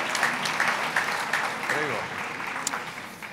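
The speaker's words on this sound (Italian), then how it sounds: "Un applauso per Annalisa Marcazzani." A crowd claps in sustained applause throughout at a workplace loyalty awards ceremony, with a voice briefly audible underneath.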